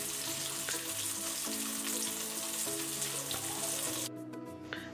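Onion and tomato masala sizzles and fries steadily in a pan for a Karimeen Pollichathu (pearl spot fish) recipe, a continuous close crackle that thins out near the end.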